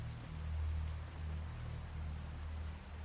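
Steady rain falls continuously, a dense, even hiss of drops on surfaces with a low rumbling undertone and no voices.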